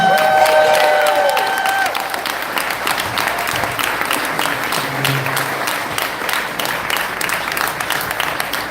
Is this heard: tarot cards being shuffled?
no